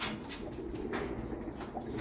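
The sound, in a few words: racing pigeon cooing near the loft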